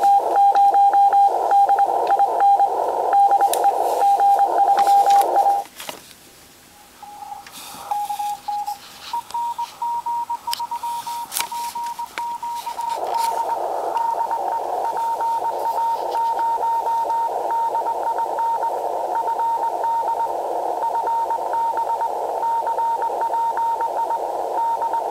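Shortwave radio signal picked up on an indoor magnetic loop antenna in an attic: a steady tone with carrier whistles and hiss, briefly dropping out midway before returning loud and continuous, with no talking.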